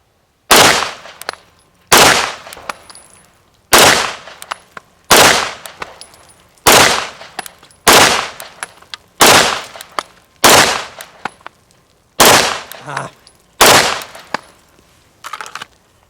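Ten sharp, loud gunshots ring out in a marksmanship dot drill, fired in pairs with short pauses, each crack followed by a brief ringing decay.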